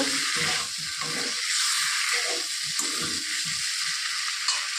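Paneer cubes fry in spice masala with a steady bright hiss, broken by a few muffled stirring knocks underneath; no voices.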